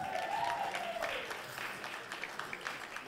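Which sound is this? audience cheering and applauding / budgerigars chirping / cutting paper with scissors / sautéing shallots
audience cheering and applauding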